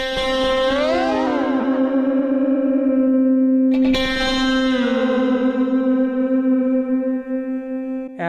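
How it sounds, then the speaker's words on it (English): A contact mic runs through a guitar delay pedal, giving a loud, sustained, droning tone with sweeping pitch bends and repeating echoes. A sharp burst near the middle briefly breaks it before the tone carries on steadily. No voices. "So now this one is delay"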